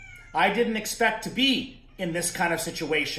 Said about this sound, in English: you typically wouldn't hear a kitten meowing